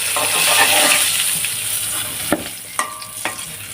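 Tilapia sizzles steadily in hot oil, a loud crackling hiss punctuated by a few sharp clinks and taps of a utensil against the pan.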